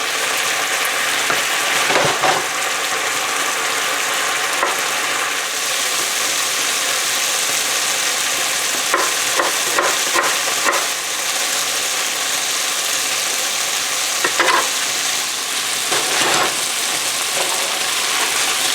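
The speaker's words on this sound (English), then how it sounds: "I'm cooking these on high for now while they burn off, while we cook off some of that starch." Potatoes frying on high heat in a pan for a meat and potato hash, a steady loud hiss and sizzle with periodic bursts of scraping as they are stirred.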